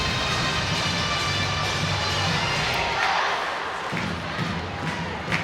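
Ice hockey arena crowd at an EIHL game between the Sheffield Steelers and Manchester Storm applauds and cheers the officials, a dense sustained roar that eases slightly toward the end.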